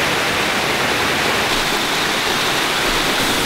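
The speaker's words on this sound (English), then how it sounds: "I'm gonna go ahead and assume that is WATERFALL" Waterfall in Java, Indonesia, roaring as a loud, continuous broadband rush of falling water with no breaks, close by and with no voices over it.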